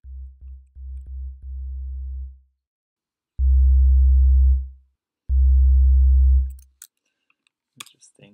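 Deep bass synth tones from Ableton's Operator synthesizer: a quick run of short plucked notes, then a sustained note, followed by two long, loud, droning bass notes with a gap between them, and a few faint clicks at the end.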